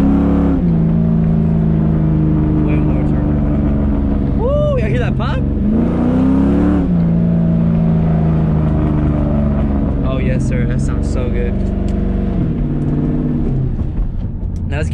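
A 2020-2021 Ford Mustang GT downshifts with a ratchet shifter while cruising around 35 mph, its steady loud engine drone rising in sharp rev blips several times as gears drop, heard from inside the car.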